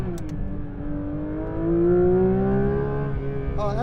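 A Porsche 911 GT3 RS (992) is let loose out of a curve, its engine note climbing steadily and loudly up close as the car gains speed, with a brief shift in tone near the end.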